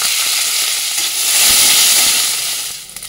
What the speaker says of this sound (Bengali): আমি কড়াইতে তেল দিয়ে দেবো। দেবো সামান্য একটু জিরে, আদা, রসুন।